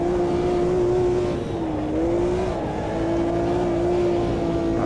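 Race car engine in the sim racing game Automobilista 2 on cold tyres: a steady, loud tonal drone whose pitch dips and recovers as the car brakes hard, with faint tyre noise and no talk.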